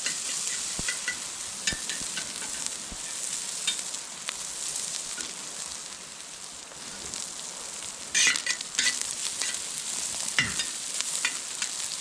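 Food frying hot on a welded plow disc over a campfire, a continuous close crackling sizzle with occasional stirring scrapes and a louder burst near the end, no talk.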